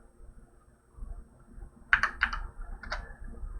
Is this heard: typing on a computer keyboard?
yes